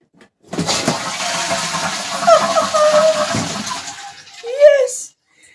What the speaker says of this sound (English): And it flushes. We haven't had a flushing toilet